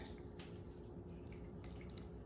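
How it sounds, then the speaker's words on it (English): Splash of milk poured into sweet potato mash, a faint liquid trickle with a few soft drip-like splashes over quiet background, brief and unaccompanied by talk. "splash of milk."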